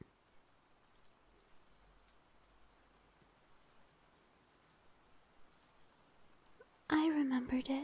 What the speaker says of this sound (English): A rainy night, just like this one.